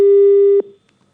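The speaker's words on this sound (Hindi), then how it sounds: "इसलिए उन्होंने फोन काट दिया, डिस्कनेक्ट कर दिया" A telephone busy tone after a disconnected call: one loud, steady electronic beep lasting about half a second, then cut off into near silence.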